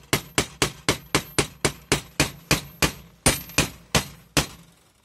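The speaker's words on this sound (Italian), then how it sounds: "Mettete su un'incudine o sul vostro blocco di rame, due bottarelle e passa la paura." A hammer flattens a bent metal lockpick on an anvil or copper block: about fifteen sharp, ringing blows in a steady, fairly quick rhythm, close and loud, with no talking.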